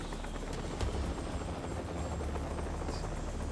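Helicopter rotor drone, steady and fairly distant, holding at an even level throughout with no talk over it, set in a hospital drama scene.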